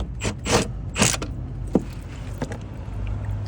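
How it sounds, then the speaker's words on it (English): Bolt being loosened under a BMW E90 335d during a full service: a few short metallic clicks and ratcheting creaks with knocks, close by and fairly quiet, no talking. "And then I'm going to remove this bolt."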